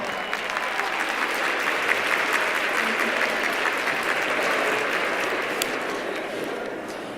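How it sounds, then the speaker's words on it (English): Sustained applause from a large crowd, dense and steady clapping that fills the whole stretch without letting up. "Please give a round of applause"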